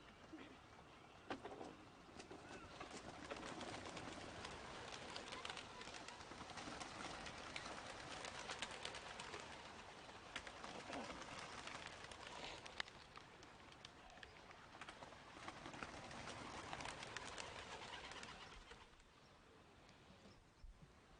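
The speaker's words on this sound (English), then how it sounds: "we now release the white doves" White doves released at an outdoor Memorial Day veterans' ceremony, a steady dense flutter of many wings with scattered coos and bird calls, fairly loud and continuous for about twenty seconds before easing off.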